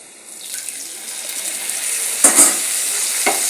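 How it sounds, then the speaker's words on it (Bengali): Potatoes with ginger-cumin paste, dried chilli powder and spices sizzle steadily in a pan, with a couple of short scraping stirs partway through; no one talks. "কষিয়ে তারপরে আমি আলু, আদা, জিরা বাটাটা এখন দিয়ে দিচ্ছি"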